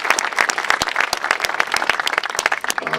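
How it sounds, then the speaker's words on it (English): A modest audience at an emergency room groundbreaking applauds, with distinct individual claps standing out sharply over a thinner, close, lively patter. "Please give her a round of applause."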